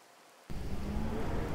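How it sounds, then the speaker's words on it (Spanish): Rain used as an audiobook sound effect begins abruptly after a brief quiet moment and continues as a steady, fairly loud downpour hiss. "Está lloviendo"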